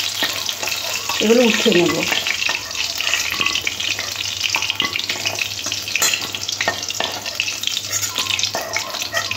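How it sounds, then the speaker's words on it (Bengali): Chicken pieces fry in hot oil for a dry chili chicken dish, giving a steady loud sizzle throughout with occasional stirring clatter, while a voice speaks briefly near the start. "যে বাকি চিকেনটা আছে একইভাবে আমি ভেজে নেব"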